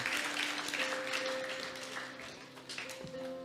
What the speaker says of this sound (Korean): 방금 일어난 일을 위해서 박수 쳐주시고